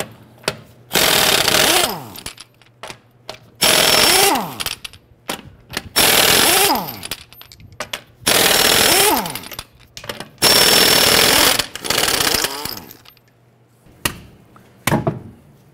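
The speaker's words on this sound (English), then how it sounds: "Using our 22 millimeter socket, we're going to loosen and remove our lug nuts." An impact wrench with a 22 mm socket removes the rear lug nuts on a 2009-2015 Honda Pilot, firing five loud hammering bursts of about a second each, separated by short pauses and faint clicks.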